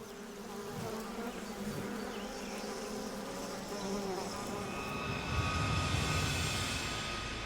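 A swarm of wasps buzzing steadily and densely around, a continuous droning hum that swells slightly toward the end, with no voices.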